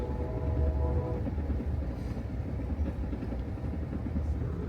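Amtrak Auto Train riding the rails through Virginia near the North Carolina line, a steady low rumble and rattle of the railcar heard from inside, continuous and even throughout.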